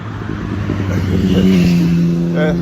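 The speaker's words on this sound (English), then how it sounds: "many cars and motorbikes passing through, but I think you'll be able to hear me fine." Traffic of cars and motorbikes passing through, a continuous roadside rumble with one vehicle's engine note rising and swelling nearby, heard under a person talking.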